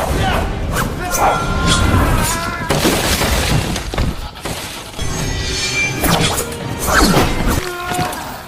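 A close-range movie sword fight: crashing, clanging blade impacts come in repeated bursts with ringing metallic tones, dense and loud, with voices mixed in.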